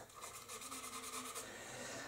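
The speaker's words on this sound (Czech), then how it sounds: "Všechno, co je hrubý, tak zabrousit do hladka." Steady sanding of rough spots on parts from a 1:50 Směr Savoia-Marchetti SM.79 Sparviero scale model kit, a close, quiet, continuous raspy rubbing with faint rhythmic strokes and no talking.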